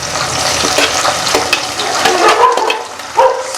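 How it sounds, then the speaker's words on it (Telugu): Curry leaves hit hot oil in a pan, a loud, continuous crackling sizzle with sharp spits and pops that flare up near the end, close and unaccompanied by talk. "ఇప్పుడు కరివేపాకు వేస్తాను"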